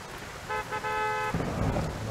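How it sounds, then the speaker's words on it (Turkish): A car pulls up in the Car Dealership Simulator video game during bad weather, with a short tonal horn-like toot followed by a broadband rumble of engine and rain. "Bir araba geldi."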